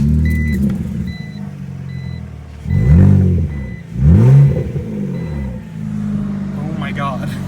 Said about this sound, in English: I was just listening to the exhaust and I love this thing so much.